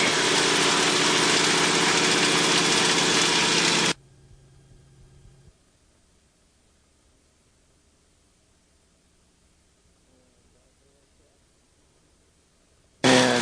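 A light aircraft piston engine runs during a mixture check as a loud, steady roaring drone. It cuts abruptly to near quiet, then returns loudly right at the end.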